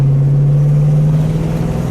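A 1975 Dodge Charger Daytona with a 360 V8 pulls up a hill, heard from inside the car as a loud, steady, low engine drone with a sustained hum throughout.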